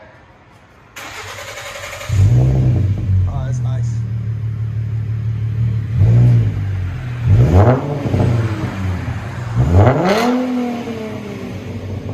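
A 2012 Ford Mustang 3.7L V6 fires up and settles into a deep, rumbling idle, then is revved hard three times through a throaty Flowmaster Flow FX dual exhaust; a voice briefly speaks.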